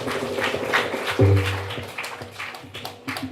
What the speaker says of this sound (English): Give our Guruji a round of applause, everybody.